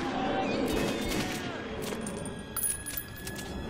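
Bursts of gunfire from the post-apocalyptic shooter Metro 2033, a rapid cluster of close, sharp shots at the start, then scattered fainter pops and a metallic clink.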